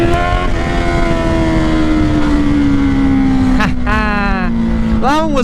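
A Honda CBR650R with a Black Widow exhaust and no dB killer holds a loud, steady engine drone that rises as the revs climb during a wheelie, with sharp throttle blips near the end; wind noise runs throughout.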